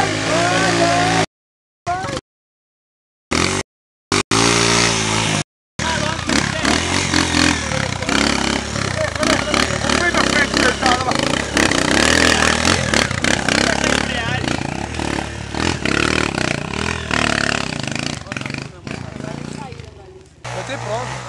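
A dirt-trail motorcycle near Casa Branca, São Paulo, buzzes and revs close by, its engine running almost continuously under excited shouting voices, with a few gaps of silence early on.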